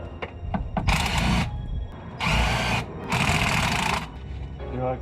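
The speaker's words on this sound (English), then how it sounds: "now I'm taking off the bolts for the axles and just got some Torx bits right here to take them off" A power driver with a Torx bit backs out greasy axle bolts on an E36 car, three bursts of loud whirring separated by short pauses and faint clicks of handling in between.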